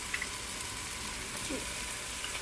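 Vegetables for veg pulav fry in a pan with a soft, even sizzling hiss that stays steady and low throughout.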